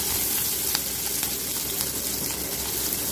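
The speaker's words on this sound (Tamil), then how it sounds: "ஒரு பெரிய வெங்காயம் தாளிப்பு, இது எல்லாத்தையும் போட்டு நல்லா வதக்கிடுங்க." Sliced onion and dried chillies sauté in hot oil in a pan for pudalangai curry, giving a steady, close, dense sizzle with faint stirring clicks throughout.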